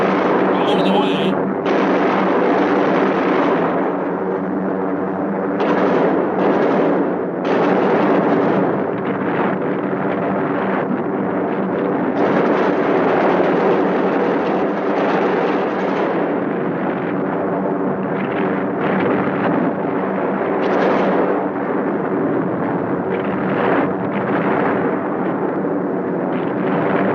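Bombs bursting in a Second World War bombing raid, heavy explosions and rumbling blasts rolling continuously at high volume, with roaring aircraft engines and wind buffeting throughout.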